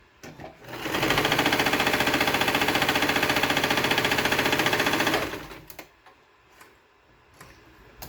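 A sewing machine stitches a fabric headband made from leftover fabric, a loud, rapid mechanical rattle running steadily for about four seconds before winding down into quiet handling noises.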